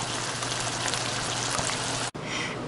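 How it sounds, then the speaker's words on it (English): Ground beef and sautéed vegetables sizzle in a pan with a dense, rain-like crackle, continuous and fairly close, briefly interrupted by a short break near the end. "now you're going to add your ground beef to your sauteed vegetables"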